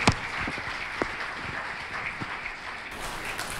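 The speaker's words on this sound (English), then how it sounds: "let's give him a big round of applause and welcome him to the stage" Faint audience applause welcoming a storyteller to the stage, a soft steady patter of clapping with a few sharper claps standing out, fading toward the end.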